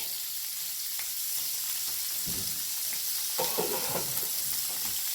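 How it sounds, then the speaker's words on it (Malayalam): Rajma bean curry gets stirred in a pot over a constant soft sizzle, with a few scraping, sloshing stirs of the thick mixture standing out near the middle. "ഒന്ന് ഇളക്കി കൊടുക്കട്ടെ."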